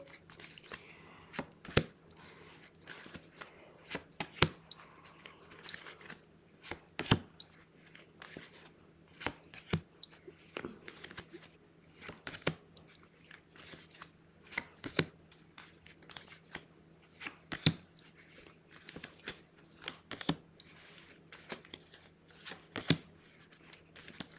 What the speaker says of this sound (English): let's go ahead and pull the 18 cards